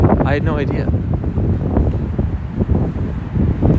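Heavy wind buffets the microphone outdoors in New York City in a low, constant rumble, with a brief voice near the start.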